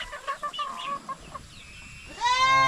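Native farm chickens cluck and call in a short burst, with a louder rising crow or squawk near the end.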